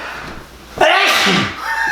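A single sharp sneeze bursts out after a quiet start, followed by a brief noisy exhale and faint background sound.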